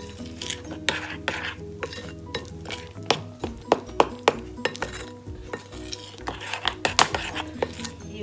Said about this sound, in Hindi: ये बेसन को ऐसे घोलते रहना है